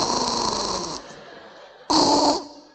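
A voice imitates snoring in two long, loud, rasping drawn-out snores with a brief quieter breath between, heard close and clear during a religious public lecture.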